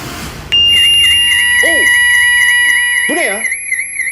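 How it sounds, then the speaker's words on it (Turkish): A piercing electronic fire alarm starts abruptly and rings continuously at a high pitch, while a voice speaks briefly under it. "Yangın alarmı? Evet."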